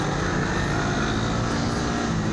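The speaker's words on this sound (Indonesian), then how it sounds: "Banyak orang bilang itu knalpot yang berisik." Sport motorcycle fitted with a loud racing exhaust, giving a continuous, heavy engine roar that stays constant and close throughout.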